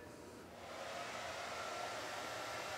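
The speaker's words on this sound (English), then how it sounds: "I'm gonna have someone turn on a hair dryer upstairs." A hair dryer upstairs whirs steadily, running off a portable power station, its airflow swelling slightly louder after the first half second, then holding an even, breathy roar with no voices.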